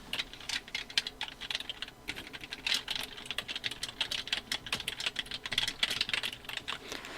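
Rapid, continuous keyboard typing on a computer while working in Photoshop, with dense, close clicks of keys in quick uneven bursts and no talk.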